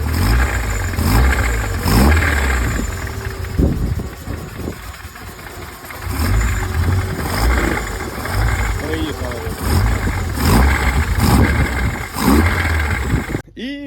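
Japanese two-litre car engine knocking with a suspected failing connecting rod on the fourth cylinder, running and revving in a garage with regular rhythmic knocks through the engine note while someone talks over it.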